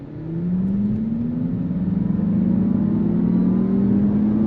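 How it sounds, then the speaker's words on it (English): A 2024 Acura ZDX A-Spec twin-motor electric SUV accelerates, a loud rising electric whine and synthesized drive tone swelling steadily from inside the cabin. "we're gonna go on throttle again with the twin motor setup"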